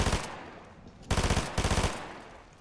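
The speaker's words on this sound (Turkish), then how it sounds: "Bu silah sıkması." Rapid automatic gunfire from a weapon in the Fortnite video game, heard as a short burst, a pause, then two loud close bursts of quick repeated shots, with no talk over them.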